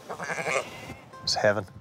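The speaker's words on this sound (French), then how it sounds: "où les moutons irlandais règnent sur les falaises venteuses" Sheep bleating on a windswept Irish clifftop farm in Donegal, a couple of wavering bleats heard close and clear after a stretch of talk.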